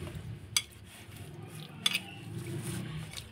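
Chicken pieces being mixed with spices in a bowl, giving two sharp clinks of utensil against the bowl amid soft, close handling noise, with no talking.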